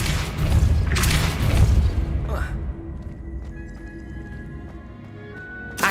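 A Depulso spell cast in the Hogwarts Legacy video game, a loud booming burst with crashing thuds over roughly the first two seconds, then a sweeping whoosh and a fading rumble with ringing tones.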